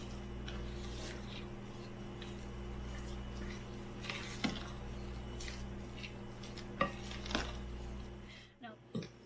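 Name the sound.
mixing pumpkin bread batter in a bowl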